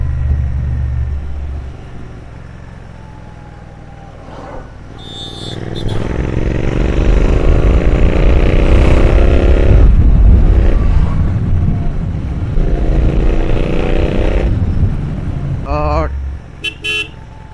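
A Royal Enfield Continental GT 650 twin-cylinder motorcycle with an AEW aftermarket exhaust idles, then accelerates in a rising, loud rumble through gears, with a horn and a voice briefly heard.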